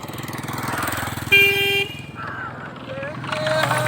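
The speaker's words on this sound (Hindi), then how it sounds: "इस पर लोग बाइक चला रहे हैं" Motorcycles ride along the India–Nepal border, with a loud horn blast, engines passing close and further horn toots under someone talking.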